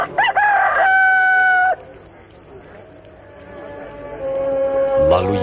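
A rooster crows once, loud and close, in a dramatized biblical scene, with a low murmur of voices and a louder swell of background sound following the crow.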